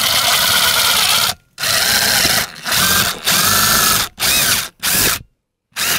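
A power drill runs in several loud bursts of whirring while installing a bathroom exhaust fan, each stopping briefly before the next, with a longer pause near the end.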